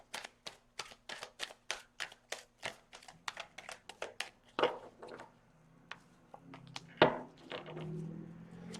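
Tarot cards being shuffled by hand, a quick run of regular crisp riffling slaps followed by slower, looser card flicks and rustles, close and fairly quiet.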